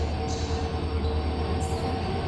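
A train at a railway station rumbles steadily throughout, a loud, continuous low drone of rolling railcars with faint metallic squeals above it and no voices.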